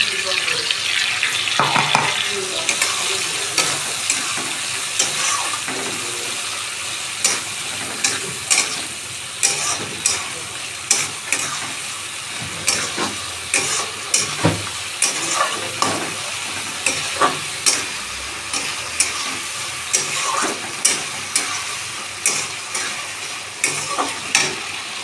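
Masala spice paste frying in a pan for an egg omelette curry, a steady sizzle with repeated stirring scrapes and clinks throughout, no talking.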